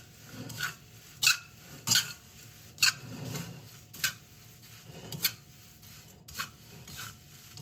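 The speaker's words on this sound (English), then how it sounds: "And stir." A spoon stirs chevdo mixture in a pot, producing a series of sharp scraping and clinking strokes at irregular intervals over a soft rustle, close and moderately quiet.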